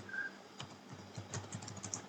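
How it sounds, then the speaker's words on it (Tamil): Computer keyboard typing on a PC while entering text with a Tamil transliteration input tool: a quiet, steady run of irregular key clicks with no talking. "இப்போ நான் வந்து டைப் பண்ணுறேன் வணக்கம் அப்படின்னு டைப் பண்ணுறேன்"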